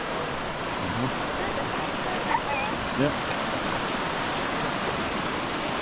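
Johnston Canyon waterfall in Banff pours as a steady, broad rushing roar, with a brief spoken word and faint voices over it.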